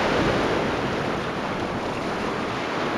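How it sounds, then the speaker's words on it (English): Ocean waves surge and break steadily on a cold coastal beach, a loud continuous roar of surf mixed with wind buffeting the microphone throughout. "Already you can hear me above the waves."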